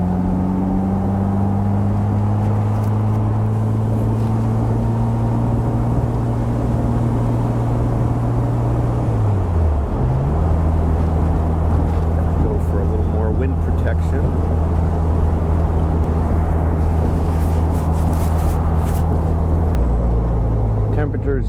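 A 1960 Bugeye Sprite engine drones steadily while driving at walking speed, its pitch dipping briefly around a gear change before settling into a constant hum under wind and road noise.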